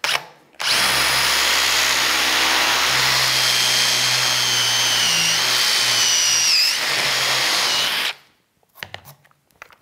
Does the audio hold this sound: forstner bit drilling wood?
yes